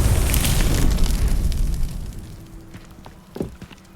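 Confringo blasting spell explosion in Hogwarts Legacy, a loud close boom with crackling debris that fades over a couple of seconds, followed by a few small pops and a short thud.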